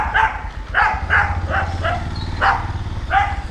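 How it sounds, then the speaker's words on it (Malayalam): Several dogs bark and yelp in a rough, overlapping scuffle close by, with sharp repeated barks over a steady low rumble of background noise. "പട്ടികൾ തമ്മിൽ ഭയങ്കര അടി കേട്ടോ"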